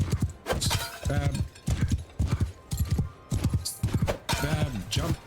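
A horse's hooves clip-clop in the Mount and Blade 2 Bannerlord video game, with close, loud hoofbeats falling in quick repeated clusters of a few strikes each at a steady, unhurried gait.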